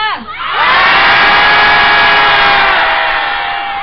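Rally crowd at a Wednesday protest for comfort women victims yells together in a loud, sustained unison roar aimed at the Japanese government, swelling within half a second and holding strong for several seconds before easing slightly.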